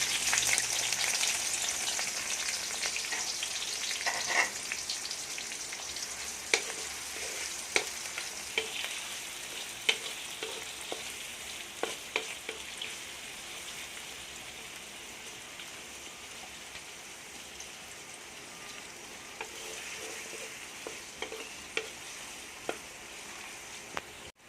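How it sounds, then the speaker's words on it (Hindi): Onions frying in hot oil with a steady sizzle and occasional crackles and pops, continuous and close, with no talking. "अब इसी ऑयल के अंदर हम जो है प्याज डाल के उनको फ्राई करेंगे"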